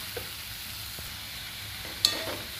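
Finely chopped onions frying in a pan, a faint steady sizzle with occasional light stirring clicks and one brief sharper scrape, close and quiet.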